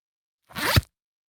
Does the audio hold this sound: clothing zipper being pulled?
yes